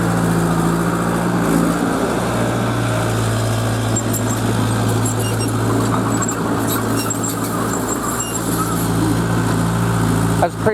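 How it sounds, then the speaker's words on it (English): An old Cat 307 excavator's engine runs steadily nearby on a small septic job, a constant low diesel drone with occasional clanks and squeaks over it, and someone talks briefly. "That's a pretty nice machine for an old Cat 307"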